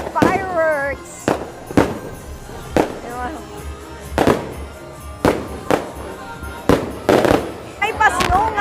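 Fireworks burst in a steady series of sharp, loud pops and crackles, about one every second, with cheering and talk from a crowd between blasts at an outdoor Christmas park in San Fernando, Pampanga.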